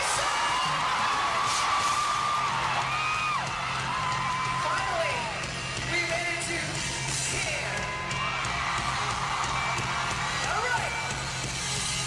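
A large concert crowd at a live show in Manila yells and whoops continuously, a dense, steady roar of many voices with rising shouts, somewhat distant, throughout.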